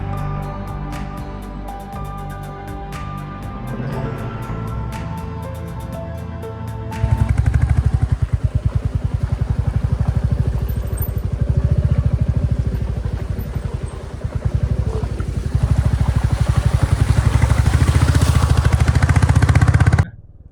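A motorcycle travels a mountain road from Joshimath to Niti Valley in Uttarakhand; after several seconds of music, a loud, close, rapidly pulsing engine drone takes over and runs steadily to the end.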